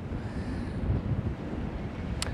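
Wind buffets and rumbles against the microphone in low, uneven gusts, a constant outdoor roar with no other clear sounds.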